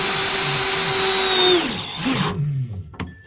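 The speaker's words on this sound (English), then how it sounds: "and then we will screw it in." A power drill drives a screw through a board into a van wall. The steady high whine slows and winds down, followed by a brief clatter and silence.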